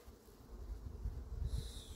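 Honey bees hum around an open hive's honey super during a July inspection, a low, steady drone of many wings up close with no talking.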